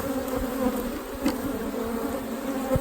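Honey bees buzz steadily around wooden hive boxes, a continuous close drone with a few louder passes as individual bees fly near, no voices.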